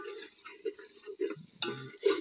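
Chicken being stirred in a pan with a cumin and mustard seed tempering over a village clay stove, heard as soft, close scraping strokes with a light sizzle and a couple of sharp utensil clinks.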